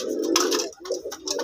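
A pair of red-headed white pigeons from a home loft coo softly nearby, a couple of short throaty, rolling calls with a brief pause between them.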